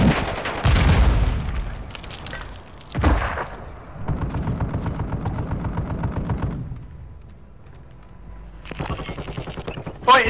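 Gunfire and explosions in the Warzone 2.0 video game: a couple of heavy booms, then a sustained rapid burst of automatic fire, a pause, and another shorter burst, all fairly close with no talk over it.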